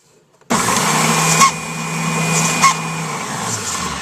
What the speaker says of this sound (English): And then this baby here is my oscillating spindle sander.